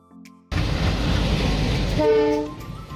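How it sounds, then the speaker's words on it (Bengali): The Balurghat Intercity passenger train rumbles loudly close by, and a horn blares briefly toward the end over the heavy rolling noise. "এই দেখছো এটা ইন্টারসিটি, বালুরঘাট ইন্টারসিটি।"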